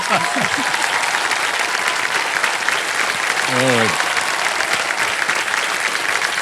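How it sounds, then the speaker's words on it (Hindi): A studio audience at a televised quiz show applauds loudly and steadily throughout, a dense wash of clapping with a brief voice rising over it midway. "मेरे नाम में ही ताली है ना, इसलिए जोर से तालियां बजना।"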